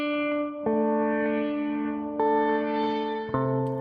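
Sustained distorted synth tones from the Outgrowth music app on iOS, four struck notes in a row with bright buzzing harmonics, each ringing on until the next strike.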